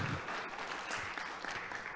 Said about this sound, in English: Can we give Karen a little round of applause?